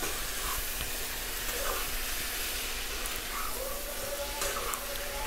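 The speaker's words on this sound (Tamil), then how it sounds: "இந்த சிக்கன் எல்லாத்தையும் சேர்த்து நல்லா மிக்ஸ் பண்ணிவிட்டு ஒரு 2-3 minutes நல்லா ஃப்ரை பண்ணால் போதும்." Chicken frying in oil with masala gives a loud, steady, dense sizzle with a broad hiss, close and continuous throughout, with faint stirring scrapes and no talk.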